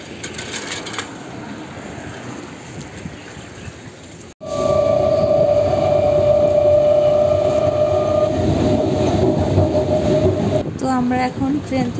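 A train ride near Barrackpore, with a moderate rumble that cuts out briefly, then returns louder with a steady sustained tone over the running noise.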